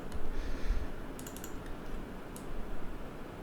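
Keyboard key presses and mouse double-clicks while editing UVs in Maya, with light sparse clicks over a steady low background hum.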